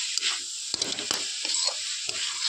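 Coconut laddu mixture, tinted red with beetroot, sizzles in a pan while being stirred, with sharp spatula scrapes and knocks over a constant hiss.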